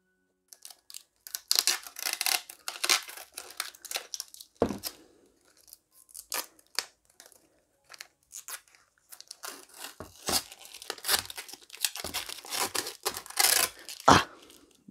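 Protective plastic film is peeled off an ASUS RTX 3050 Phoenix graphics card, giving quiet, intermittent crinkling and tearing bursts with short pauses between pulls, close to the microphone.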